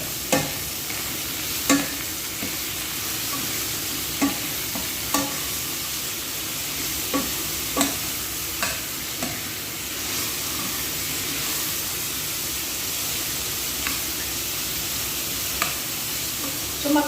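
Shrimp sautéing with salt in a pan, a steady sizzle and hiss broken by a dozen sharp scrapes and clacks of a spoon stirring at irregular intervals, close and clear with no voices.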